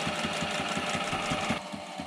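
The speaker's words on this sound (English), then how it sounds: "Here we have to use a special attachment to the sailrite machine called a binding feeder." A Sailrite sewing machine fitted with a binding feeder attachment stitches along mesh on a boat project, a rapid rhythmic mechanical chatter that runs steadily then slows near the end.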